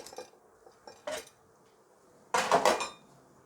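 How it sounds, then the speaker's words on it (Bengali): The metal lid of a pressure cooker holding goat meat rezala is handled and opened, giving a few sharp clanks and rattles. The last clatter is the loudest, and there is quiet between the knocks. "এখন ঢাকনাটা খুলে দেখি কী অবস্থা।"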